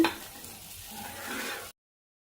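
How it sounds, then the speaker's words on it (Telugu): Stuffed bitter gourd fries in oil, a soft steady sizzle close by that swells slightly as the pieces are turned, then cuts off abruptly into silence. "ఈ విధంగా ఈ ఆయిల్లో కాస్త వేయించేసేయండి అటు ఇటు తిప్పుకుంటూ"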